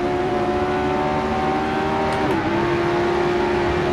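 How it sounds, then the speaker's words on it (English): A McLaren race car in the Assetto Corsa racing game drives under the Dunlop Bridge at the 1967 Reims-Gueux circuit. A loud, steady engine drone holds throughout, with a brief pitch dip near the middle as the car passes. "Goes one of the McLarens under the Dunlop Bridge"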